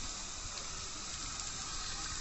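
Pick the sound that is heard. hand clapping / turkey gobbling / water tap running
water tap running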